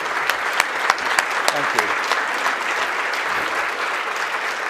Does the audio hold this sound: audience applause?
yes